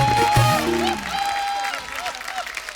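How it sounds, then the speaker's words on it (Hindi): Studio audience applause for comedian Kapil Sharma on his live comedy show, a broad clapping wash mixed with music and a brief voice at the start, fading slightly over a few seconds. "जोरदार तालियां कपिल शर्मा के लिए।"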